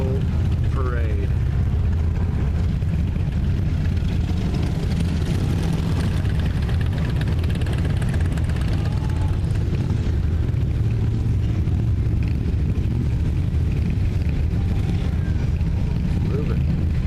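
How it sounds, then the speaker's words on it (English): Motorcycles parading along the route at the Sturgis rally, a loud continuous rumble of many engines close by, sustained for the whole stretch with no clear speech over it. "Motorcycle parade."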